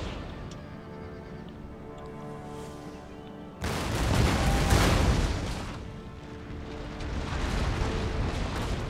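Artillery blasts a house in the video game Empire Total War: quiet ambient battle noise gives way to a sudden heavy boom that rumbles and swells, then settles into a low roar.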